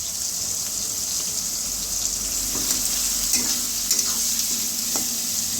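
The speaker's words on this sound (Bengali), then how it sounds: "কড়াইতে আমি আগের থেকে তেল দিয়ে নিয়েছি, তেলটা গরম হয়ে গেছে। এবার উচ্ছেগুলি দিয়ে দেবো।" Thin bitter gourd slices fry in hot oil in a pan, giving a strong, continuous sizzle up close with a few light scrapes and clicks of stirring.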